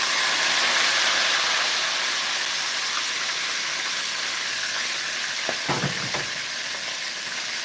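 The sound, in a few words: chicken frying in hot oil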